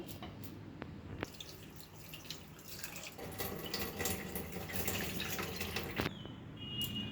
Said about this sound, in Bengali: তো এটাকে জলে ধুয়ে নেবো ভালো করে।